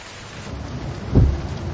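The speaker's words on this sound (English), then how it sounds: "Is this a rainy season down here? Yeah. It's raining like hell." Heavy rain in Costa Rica hisses steadily, then a single deep thunder rumble swells up close.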